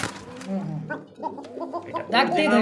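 A Basiraj pigeon coos at a pigeon sale with soft, throaty, rolling calls up close. Voices can be heard nearby.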